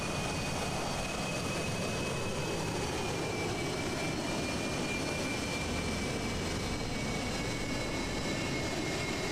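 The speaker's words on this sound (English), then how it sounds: "Full military takeoff by the two Vipers in front." Two F-16 Viper jets take off at full military power, producing a steady, loud, continuous roar with a thin whining tone riding on top and no voices throughout.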